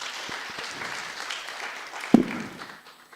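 The audience at a county procurement congress claps for Mr. Rotich in a short, even burst that fades after about three seconds, with one louder thump near the end.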